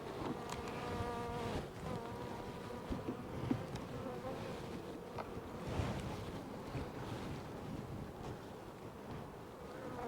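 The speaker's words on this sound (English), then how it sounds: "Nice gentle bees." Gentle honeybees hum steadily at an open hive during hive work, a dense, continuous buzz of many insects close by, with faint handling knocks and no talk.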